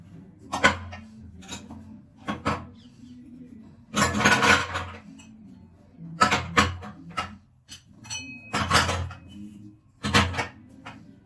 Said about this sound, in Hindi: मैं सारे बर्तन निकाल देती हूँ उसमें।